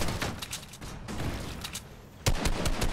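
Rapid gunfire from a firefight against opposing players in a Fortnite late-game arena trios match, with dense bursts of repeated shots and a sharp, louder volley near the end, heard alone without talk.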